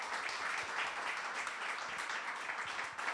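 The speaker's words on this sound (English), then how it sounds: "let's give a big round of applause for our 4 experts tonight" An indoor audience at an evening talk applauds its four experts with a sustained round of clapping, a thick, even patter that stays at a constant level for the whole stretch.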